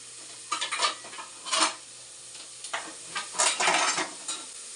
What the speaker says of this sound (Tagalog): Nagigisa na siya ng bawang, luya.